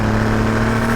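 A Cadillac CT5-V Blackwing's engine hums with a steady, loud, tonal drone through one short unbroken stretch, with no voices.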